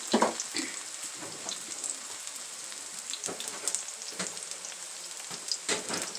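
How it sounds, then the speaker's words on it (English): Salmon fries in a pan with a steady, close sizzle and crackle, scattered pops and spits rising above the hiss, and no talk over it. "The salmon is cooking up."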